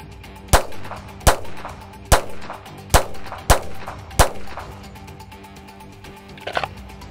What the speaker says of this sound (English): we did was just put 6 rounds of 9mm 124 grain onto the front of the vest